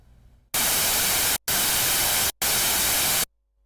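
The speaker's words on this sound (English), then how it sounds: "the last available waveform is noise, which is all the frequencies at the same amplitude" Sylenth1 synthesizer oscillator set to its noise waveform, giving three loud, pitchless bursts of broadband hiss, each about a second long with short silent gaps between them.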